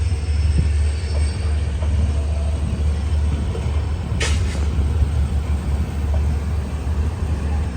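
Inside a Vijayapura to Mangaluru express on a scenic Karnataka route, the carriage rolls with a loud continuous low rumble and wheel clatter, with a brief sharp squeal partway through.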